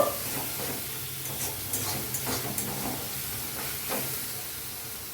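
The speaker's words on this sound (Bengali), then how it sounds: "এই সব মশলাগুলো কষিয়ে আমার আরেকটু পেঁয়াজ লাল লাল হবে" Onions and spices sizzle steadily in hot oil for a Bengali prawn khichuri, a continuous close frying hiss with occasional stirring clinks and small pops, no voices.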